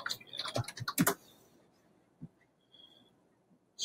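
Quick burst of typing on a computer keyboard in an office, about a second of close, rapid key clacks, then a few scattered isolated key presses in near quiet.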